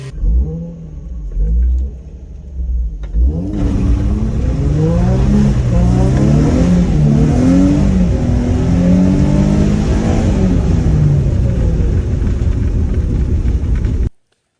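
A Nissan 350Z engine starts after a brief quiet idle and then runs loud and close, revving up and down repeatedly in smooth rising and falling sweeps before cutting off abruptly.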